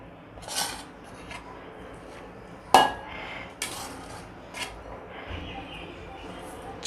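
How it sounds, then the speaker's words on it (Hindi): Grated watermelon rind and other grated ingredients go into a mixing bowl, heard as scattered clinks, scrapes and thuds against the bowl, close, with short quiet pauses between. "यहाँ पर मैंने एक मिक्सिंग बोल लिया है, तो इसमें सारी कद्दूकस की हुई चीज़ें डाल देते हैं।"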